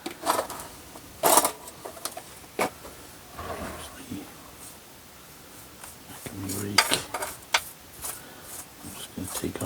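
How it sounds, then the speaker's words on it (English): Soil and rock being scraped out of a juniper bonsai pot, intermittent close scratching and gritty scrapes with clinks, separated by quiet gaps. "So I just want to scrape that out with something."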